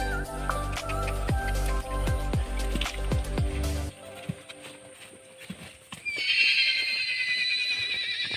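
Horse neighing loudly and close by in hot weather on a hillside farm, then quieter clip-clop and shuffling noises as the sound fades out, with a brief high-pitched noise near the end.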